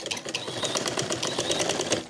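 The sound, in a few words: sewing machine stitching a joggers waistband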